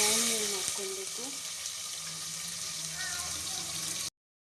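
Onions sizzle in a pan for mushroom biryani, a soft, steady frying hiss that ends abruptly, with a voice faintly audible at moments.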